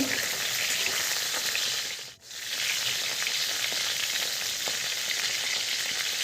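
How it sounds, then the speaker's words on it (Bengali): Pieces of pointed gourd (potol) fry in hot oil in a wok, giving a loud, continuous sizzle that briefly dips once, probably as the pieces are stirred, and then returns at full strength. "পটলগুলোকে হালকা একটু লাল লাল করে এখানে ভেজে নিচ্ছি"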